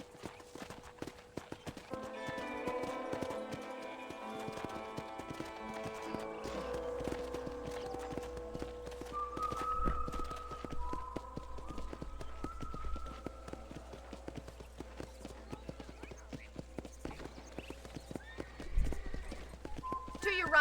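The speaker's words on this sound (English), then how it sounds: "I picked out a fine horse for you." Horse hooves clip-clop at a steady walking pace in the Red Dead Redemption video game, with occasional whinnies, layered over game music and spoken dialogue.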